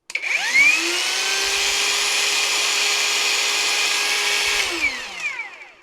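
Parkside Performance 20V cordless angle grinder spinning up with no disc fitted, a steady high motor whine held for several seconds before winding down, close and fairly loud, no voices.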